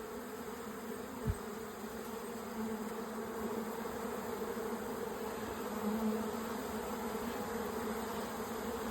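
Honey bees buzz steadily during a hive inspection, a dense, even drone that stays close and constant, with one brief thump near the start.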